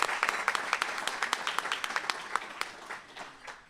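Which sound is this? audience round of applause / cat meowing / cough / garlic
audience round of applause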